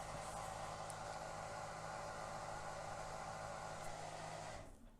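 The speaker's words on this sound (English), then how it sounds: "sorry about the noise in the background, the dishwasher's going in" A dishwasher runs in the background, a steady low hum and wash of noise that cuts off abruptly at the end.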